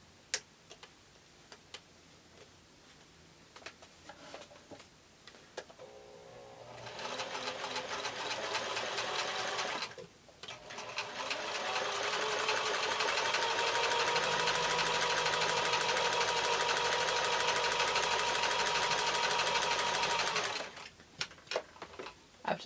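A sewing machine stitches quilt block pieces for a diamond-in-a-square block, starting with a short burst of rapid mechanical ticking, a pause, then a long steady run of fast whirring stitches before stopping with a few clicks.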